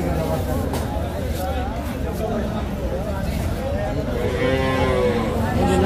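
Cattle mooing in long drawn-out calls at a busy Bangladeshi village livestock market selling calves, with crowd chatter and bargaining voices throughout.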